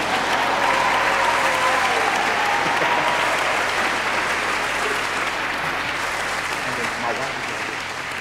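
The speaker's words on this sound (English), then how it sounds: "So y'all give Mama another hand clap for me." Sustained applause from a gospel concert audience, a dense steady wash of clapping filling the hall for several seconds.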